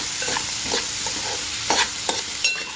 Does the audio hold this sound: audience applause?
no